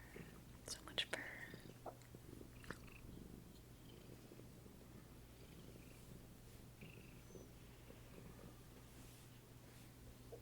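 A house cat purrs in a quiet room, a low, soft, continuous rumble close by, with a few faint whispers and small rustles early on.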